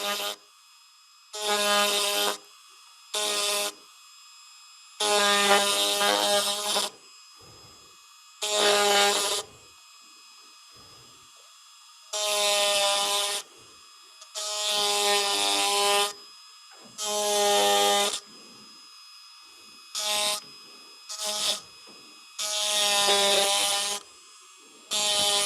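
A rotary carving tool fitted with a rounded bit clears the outer wood around a raised carving, whining in short, loud, high-pitched bursts of a second or two, separated by silent gaps.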